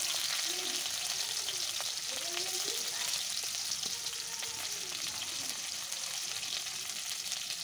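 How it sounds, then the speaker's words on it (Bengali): Chopped onion fries in hot oil in a wok, a steady close sizzle with a few soft scraping stirs running through the whole stretch. "পেঁয়াজটা এখন লাল লাল করে ভেজে নেব।"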